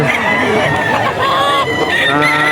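Black Spartan gamecock with a straight comb, clucking and calling in a busy yard with other chickens, amid steady noise and someone talking over it.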